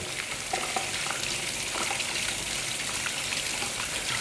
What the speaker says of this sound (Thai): เปิดน้ำครับ แล้วขัดแล้วถูอย่างเงี้ยครับไปเรื่อยๆครับ